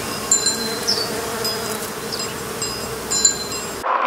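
Honeybees hum steadily at a beehive under inspection, a close, continuous drone with occasional louder passes of individual bees, ending abruptly.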